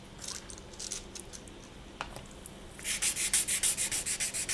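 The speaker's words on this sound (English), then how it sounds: "bring over my 1200 grit because we want to sand away some of this" Short rhythmic rubbing strokes of 1200-grit sandpaper wet sanding polymer clay, soft and close, starting sparse and becoming a steady run of about ten even strokes.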